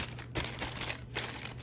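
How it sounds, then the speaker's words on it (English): Sealed plastic bag from a 1:48 scale model tank kit crinkling and rustling close up in short handled bursts. "sealed plastic bag."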